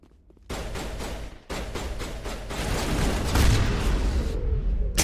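Shotgun blasts in the video game Mass Effect 1: a loud opening shot, then a rapid cluster of heavy reports merging into a sustained roar of combat noise.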